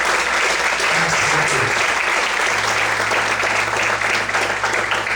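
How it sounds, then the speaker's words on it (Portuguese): A church congregation applauding, dense sustained clapping from a large crowd filling the room evenly, with a low hum underneath. "Você pode aplaudir ao Senhor essa noite?"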